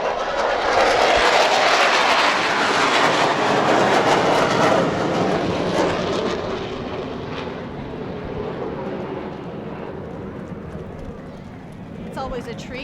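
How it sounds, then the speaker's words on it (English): F-16 Viper military jets from the Air National Guard fly over a Memorial Day parade, a loud broad jet roar that swells early and slowly fades as the aircraft pass, with crowd voices beneath. "Those military jets flying over were F-16 Vipers from the Toledo Air Wing."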